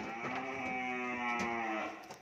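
Cattle on a cattle farm in Vietnam give a single long, loud, close moo that holds steady for about two seconds before fading.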